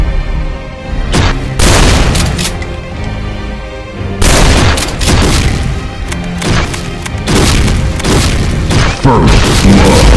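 Heavy railgun shots fired in a barrage in a Doom mod video game against Cyberdemons: loud, booming, crashing blasts land in irregular clusters over a thick rumbling bed of battle noise.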